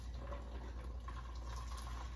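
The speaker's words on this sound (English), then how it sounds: "I pour it directly into the bag, and I pour it pretty slow" Homemade almond milk poured slowly into a strainer bag over a sink, giving a steady, continuous liquid trickle that runs at an even level throughout.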